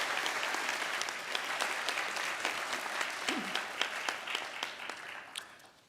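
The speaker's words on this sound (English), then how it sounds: "please give them a round of applause." Audience applause for a university board of trustees at a presidential inauguration, dense and steady clapping from a large room that fades toward the end.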